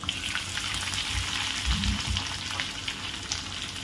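Chopped onions sauté in hot oil with crushed garlic cloves for Kolhapuri zhunka, a continuous close sizzle with low thuds of stirring and no speech.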